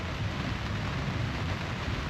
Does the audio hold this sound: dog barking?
no